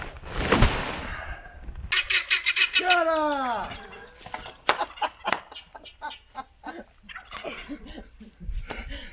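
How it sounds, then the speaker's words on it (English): Guinea fowl squawk in a rapid, harsh series of cackling calls with rising and falling pitch, loud and close outdoors, mixed with a person shouting briefly and talking around the calls. "Every time you want to record, there come the guinea."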